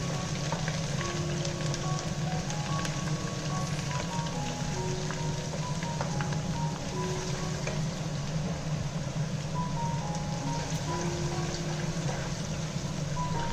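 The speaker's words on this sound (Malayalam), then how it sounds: "ഈ വെളുത്തുള്ളിനെയും ഇഞ്ചിയും ഞാൻ അതിനകത്തേക്കിട്ട് നല്ലതുപോലെ മൂപ്പിച്ചെടുക്കാൻ പോവാണേ" Garlic and ginger fry in a pan for a Kuttanad-style chicken mappas, giving a steady, continuous rain-like sizzle with no pauses and no one talking.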